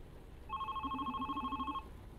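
A telephone rings in the video game The Red Strings Club: a single electronic trilling ring lasting about a second and a half, clear and alone over a quiet background.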